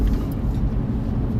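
Low, loud engine drone from a straight-piped car with no mufflers, a steady rumbling hum filling the cabin without any talk.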